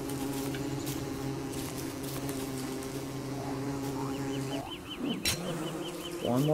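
Angry bee in Don't Starve Together droning low and constant, then a sudden swoop and burst before a faint repeating chirpy warble returns alongside the buzz.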